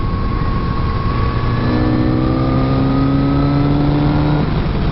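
Kawasaki Z900RS motorcycle engine revving and pulling hard, with a steady loud drone and rising harmonic whine as it accelerates through the gears, close up with no talk.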